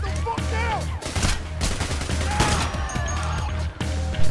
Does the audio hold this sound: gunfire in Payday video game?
yes